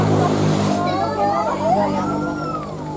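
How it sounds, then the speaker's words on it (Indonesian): A new Komatsu HD785-7 dump truck's big engine drones with a loud, steady low harmonic hum, fresh out of port during mobilization, with shifting tonal whines and background talk over it. "Dump truck atau HD785 Komatsu baru ini lur."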